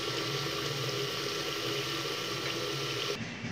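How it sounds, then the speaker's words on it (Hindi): Fish coated in yogurt frying in a pan, giving a steady, dense sizzling hiss that holds evenly and then drops away abruptly near the end. "दही में बहुत जल्दी फिश फ्राई हो जाती है"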